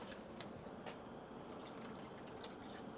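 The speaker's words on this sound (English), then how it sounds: "And now we can put water" Water streams steadily into a soup pot holding cut zucchini, carrots and mushrooms, a continuous quiet splashing and trickling with small drip-like accents and no voices.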